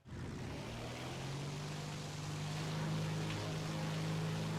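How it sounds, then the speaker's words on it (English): Contra-rotating propeller plane engine in War Thunder drones loud and steady with a low tonal hum that rises slightly in pitch, alone without talking. "This is the Esso 8000 contra rotating propellers."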